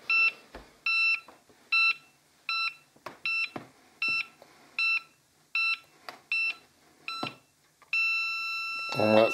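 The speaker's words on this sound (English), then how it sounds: "Red and one beep." A RadAware EMF detector gives a steady series of short, bright electronic beeps, about one per second, close up, ending in a longer sustained tone with a rustle, with no talk over it.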